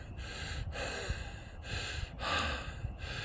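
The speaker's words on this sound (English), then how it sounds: "What's up with my breathing?" A person breathes heavily after exertion, resting while out of breath; several deep, rhythmic breaths repeat about every second, close to the microphone and fairly quiet, with no speech.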